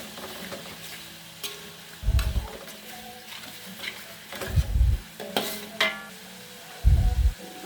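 Red chilies stir-fried with yellow spice paste, a steady sizzle punctuated by three or four loud low scraping stirs of the spatula against the pan.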